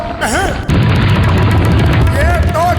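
A huge boulder rumbles through a tunnel in a Motu Patlu cartoon chase, a loud continuous roaring rumble that sets in abruptly after a brief cartoonish warble and holds steady, with a wobbling tone returning near the end.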